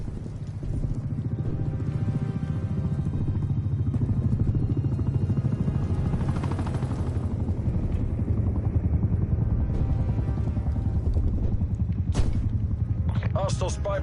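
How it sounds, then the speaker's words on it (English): Attack helicopter in a Call of Duty multiplayer match on PS5, a steady loud rotor drone running throughout with game sounds and brief sharp effects near the end. "Attack helicopter is ready to deploy."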